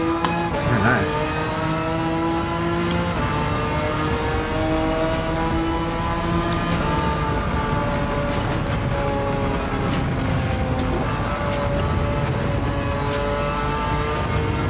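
A Honda NSX race car engine in Gran Turismo 7 drones continuously, its pitch rising and falling through gear changes and throttle shifts, with a tire squeal early on and a person speaking over it.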